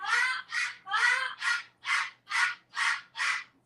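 A pet cockatoo named Coco, kept in a home with several birds, lets out eight loud, harsh screeching calls in a steady rhythm, close to the microphone, with no talking over them.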